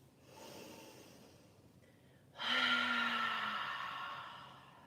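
A deep breath exhaled through an open mouth during a gentle restorative yoga session: a soft inhale, then one long, breathy, audible exhale, close and alone with no talk.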